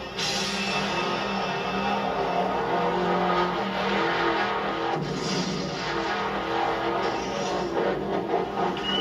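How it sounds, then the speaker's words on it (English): The Bigfoot monster truck comes down hard after a long ramp jump, a heavy thud under continuous roaring engine noise and crowd din at a stadium event. "Bigfoot slams to the ground."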